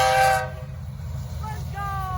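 A BNSF coal train led by a heritage-painted locomotive rumbles past close by, with a low steady roar and a brief horn note at the start.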